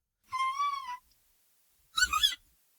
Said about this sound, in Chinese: 你说皮克特的叫声这是我升了个调然后往死里夹出来的